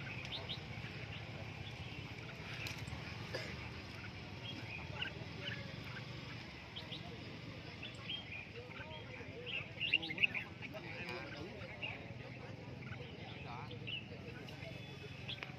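Many red-whiskered bulbuls chirp and tweet busily in the background at a caged bird market, faint and continuous, while people talk nearby.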